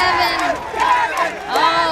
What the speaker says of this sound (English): The crowd is erupting at this point.